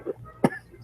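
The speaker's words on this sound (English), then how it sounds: "I'm sorry, I just coughed." A person coughing indoors, two or three short sharp bursts with a final louder one, close to the microphone and alone without talk.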